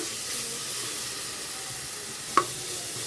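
Onion sautéing with ginger garlic paste in a pan gives a steady soft sizzle throughout, with one sharp tap of a utensil near the end.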